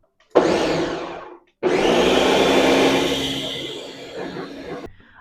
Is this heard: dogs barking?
no